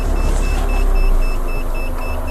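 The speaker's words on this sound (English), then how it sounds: "Sounds like there's an alarm going off behind me." An alarm going off some distance behind a safari vehicle in the African bush, heard as a steady repeating electronic beeping in a fast rhythm over a low engine rumble.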